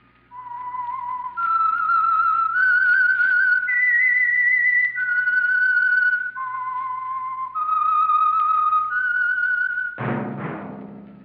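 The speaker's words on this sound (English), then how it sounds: "That whistle is your signal for the Signal Oil Program, The Whistler." Whistled radio signal tune for the Signal Oil Program, The Whistler: a loud, clear sequence of sustained stepping notes in a slow melodic phrase, ending in a sudden low musical crash.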